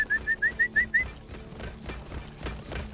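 Wally, a drilling creature in the video game Eco, gives a run of about six short, bright whistles in quick succession, fairly close and clear, followed by softer scattered clicks and game noise.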